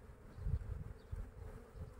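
Honey bees buzz around an opened beehive in May, a crowded colony that has outgrown its 12-frame hive, giving a low, close, continuous droning hum that swells and eases in uneven pulses.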